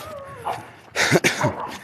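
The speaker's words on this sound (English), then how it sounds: "you'll hear like dogs like that as you're passing by" Dogs behind a fence give a few sharp barks and yips at close range as someone jogs past in the early morning, with quiet outdoor ambience between the barks.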